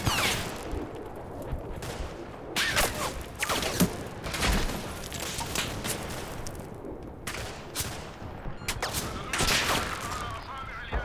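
Scattered gunfire in the video game Combat Mission Shock Force 2 during a Syrian mechanized infantry attack on a village: irregular, distant bursts and single shots rolling through a continuous battle ambience.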